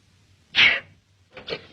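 A single sharp human sneeze bursts out close by in a quiet room at a dinner table, followed by a softer short burst of sound.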